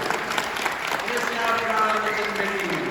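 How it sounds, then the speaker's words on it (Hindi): Applause at an Uttarakhand wedding ceremony in Dehradun, a dense patter of clapping running under loud chanting and voices throughout. "जोरदार ताली बजाइए"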